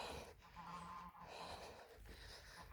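A duck gives repeated harsh, honking calls in a quick series, fairly faint over low background noise, with no speech.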